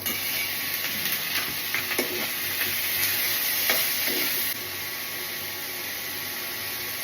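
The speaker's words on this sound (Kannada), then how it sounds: "ಇದು ಈಗ ಚೆನ್ನಾಗಿ ಫ್ರೈ ಆಗಿದೆ." Potato and sliced white brinjal frying in hot oil with chilli powder, a dense continuous sizzle and hiss, close and loud, with occasional stirring scrapes and no talk.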